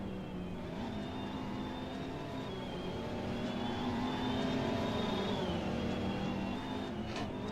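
Racing car engines at the 2024 GTI Utah Grand Prix held near the rev limiter, giving a sustained high, droning whine with steady tone and slight pitch shifts, heard from a distance with no pauses.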